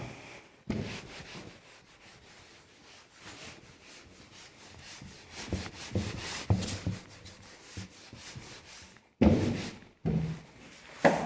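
A duster is rubbed back and forth to erase writing on a classroom board, giving repeated scratchy strokes close by, quiet at first and then louder in bursts, with no talking.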